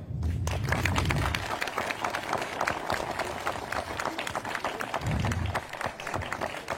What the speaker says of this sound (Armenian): Ասում եմ անունը ու ծափարում եք